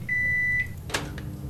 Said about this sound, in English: Can I put more stuff in the microwave?